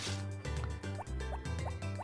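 Watering can being filled with water in the farming video game Harvest Moon: Back to Nature, a short looping game sound effect of pouring liquid with rising drip tones, repeating several times in a steady rhythm over background game music.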